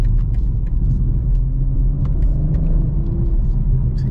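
A BMW M240i xDrive coupe in sport mode drives onto a highway, its steady low engine and road rumble droning close and loud throughout, with faint ticks over the top and no talk.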